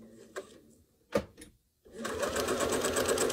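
Sewing machine doing free-motion quilting: a few short needle bursts and pauses, then a steady continuous stitching run, close and clear.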